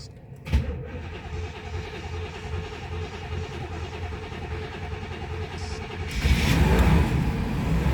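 The KITT car's engine, its water jacket cracked on both sides after freezing, catches with a sharp jolt after cranking. It settles into a steady idle, then swells louder as the revs rise near the end.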